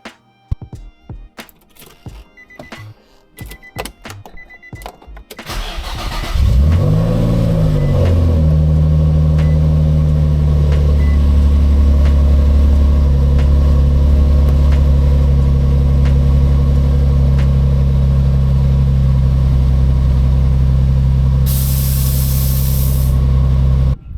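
An Infiniti G35 engine starts up after some quiet clicking and handling, then settles into a steady, loud running drone with a low hum that continues to the end.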